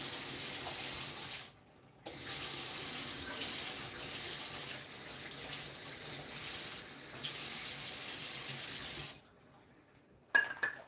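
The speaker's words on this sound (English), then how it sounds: "just gonna add some water to it" Water runs steadily from a kitchen tap for several seconds into a bowl holding an egg for an egg wash, with a brief stop, then the tap is shut off near the end.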